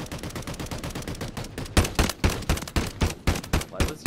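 Video game gunfire from Warzone 3: a steady stream of rapid shots runs throughout, turning into louder, sharper bursts of fire in the second half.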